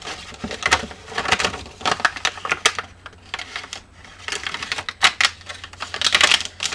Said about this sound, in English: Wow, it is the crunchiest paper.